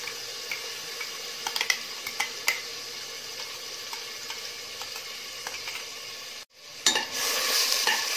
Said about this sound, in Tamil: எண்ணெயில் ஒரு நிமிஷம் ஆட்டிக்கலாம். சிம்மில் வச்சுக்கணும், இல்லாட்டி பிடிச்சிடும்.